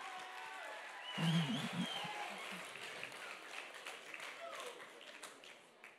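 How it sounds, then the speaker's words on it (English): Audience applause at a 2014 poetry slam final welcomes the evening's sacrificial poet, breaking out after a second and continuing steadily as a broad crowd roar with voices mixed in. "Start clapping now."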